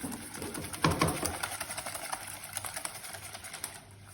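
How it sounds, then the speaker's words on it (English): A whisk beats flour into batter in a bowl, a steady, rapid rhythmic scraping and tapping that runs close and clear for a few seconds before easing off, with no voices. "Let's whisk that up first, just so that the flour goes in easier."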